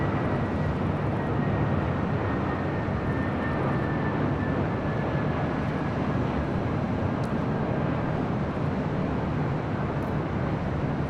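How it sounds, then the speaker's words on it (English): Spirit Airlines Airbus A320neo arriving at LAX from Salt Lake City, a steady, broad jet-engine roar with a faint whine slowly falling in pitch, sustained and fairly loud with no talking. "Spirit A320neo. Coming in from Salt Lake City, Utah."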